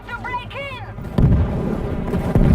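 Gunfire in the zombie shooter World War Z during a helicopter fight in Moscow, arriving as two loud, dense bursts after a stretch of voiced talk and game sound.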